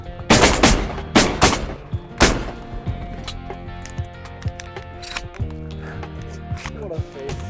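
Shotguns fire during a waterfowl hunt in Ontario, several loud, sharp blasts in quick succession near the start with another a moment later, followed by quieter background noise and talking.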